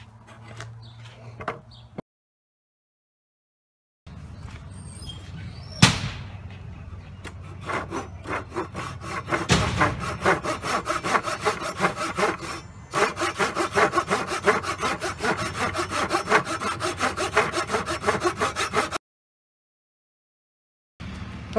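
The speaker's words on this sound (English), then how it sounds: "I've now gone ahead and cut away that piece of wood. So now I have an angled headstock." A hand saw cuts through a wooden guitar neck to form an angled headstock on a cigar box guitar. Steady, rapid back-and-forth rasping strokes run close and loud for long stretches, broken by short pauses, with no talk.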